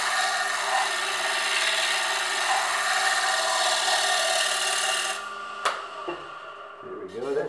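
Wood turning on a lathe with a Hunter Viceroy cutting tool gives a steady, close rasping scrape that stops abruptly, followed by a sharp knock and quieter handling sounds.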